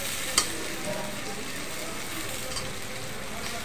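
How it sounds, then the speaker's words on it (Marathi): Okra dropped into hot onion masala in a pan, bringing a steady, close sizzle of frying with a brief clatter as it lands and soft stirring noises after. "आता आपण याच्यामध्ये भेंडी घालूया"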